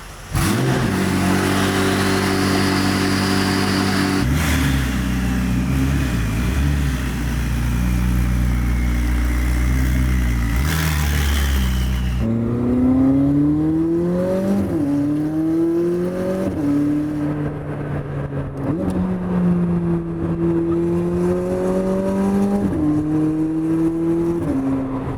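McLaren 600LT sports car engine while driving, loud and continuous throughout, with deep revving and shifting pitch as it accelerates, a harsher, busier roar early on and rising and falling gear pulls later.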